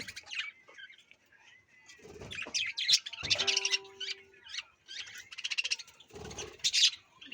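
Java sparrow chicks kept in a colony cage, their chirps coming as bursts of small high calls. The calls are near and moderately loud, and a few short noises break in among them.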